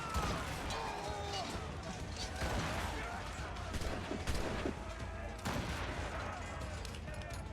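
Gunfire in Assassin's Creed Rogue, a dense, noisy battle din with repeated shots and crashes running throughout, loud and steady, with voices mixed in.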